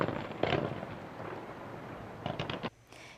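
Fireworks bursting up to about 25 meters in the sky at an outdoor show, heard as a dense rumbling crackle with a few sharper pops near the end, fairly faint and distant.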